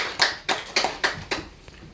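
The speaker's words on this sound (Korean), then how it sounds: "박수!" Sharp, evenly spaced claps at a Korean real estate investment lecture, about six close hand claps in a quick steady rhythm that fade out with a final faint clap.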